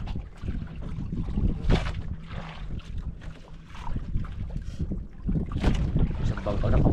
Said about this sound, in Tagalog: Isang bangka na pahuli rin na idol.